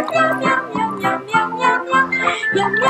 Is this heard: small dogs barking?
no